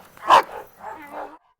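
A Cane Corso lets out one loud, close bark, followed by a softer, drawn-out whining vocalization, with no talking over it.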